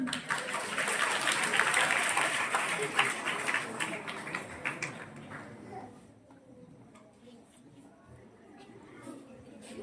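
Applause at a primary school Independence Day celebration in Kantrodi, a crowd clapping loudly for several seconds, then fading to scattered claps, with a voice speaking over it.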